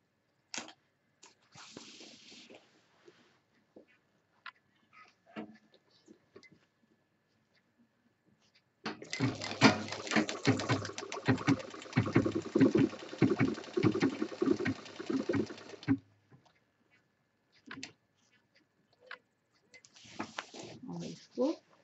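Sewing machine stitching a handbag, a dense continuous whirr of rapid stitches running for about seven seconds, with soft handling noises and sparse talk before and after.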